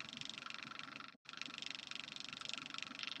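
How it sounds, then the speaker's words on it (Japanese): An electric fan picked up by a microphone: a steady whirring hum with a fast rattling flutter runs throughout, cutting out briefly once before resuming; no one speaks. "マイクにファンみたいな音が入ってますね。すいません、扇風機かもしれないです。"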